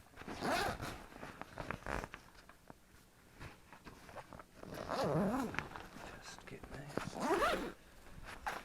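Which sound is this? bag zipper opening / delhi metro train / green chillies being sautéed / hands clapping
bag zipper opening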